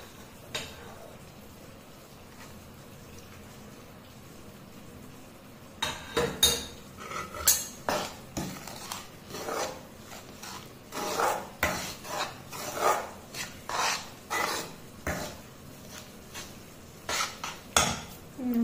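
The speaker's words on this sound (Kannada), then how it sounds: "ತುಪ್ಪನ ಸ್ವಲ್ಪ ಸ್ವಲ್ಪನೇ ಸೌಟ್ನಲ್ಲಿ ಹಾಕೊಂಡು ಕಲಸ್ಕೊಂಡು ಮಿಕ್ಸ್ ಮಾಡ್ಕೊಳ್ಳೋಣ" A ladle works hot ghee into a Mysore pak mixture, giving a soft run of scraping and clinking against a metal pot that starts after a quiet opening and repeats in uneven, close strokes.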